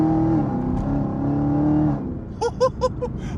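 A 2023 Chevrolet Camaro ZL1 with a supercharged 650 hp engine drives along, its low steady drone rumbling close inside the cabin for about two seconds before easing off, leaving quieter road noise with a few brief chirps.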